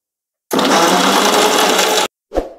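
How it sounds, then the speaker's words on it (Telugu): A mixer grinder blends bananas with milk for a milkshake, whirring loudly and close for about a second and a half, stopping, then giving one short final pulse. "ఇప్పుడు మిక్సీ పట్టుకుందాం"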